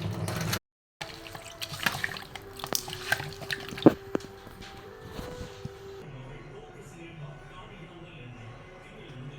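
Stingray fish pieces are washed in water with rock salt and turmeric. Splashing, dripping and trickling water sounds come and go, with a brief silent gap near the start.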